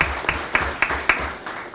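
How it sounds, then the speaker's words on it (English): A school district governing board meeting audience claps for its schools, a short burst of hand claps in a fairly even rhythm, moderately loud and close. "So a big round of applause for all of our schools."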